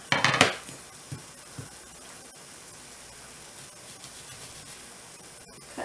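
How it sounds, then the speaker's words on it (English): A knife cuts bad spots out of an onion: a sharp burst of clatter at the start, followed by a couple of soft knocks against a cutting surface, then near quiet. "Cutting out bad spots that happen to be in my onion."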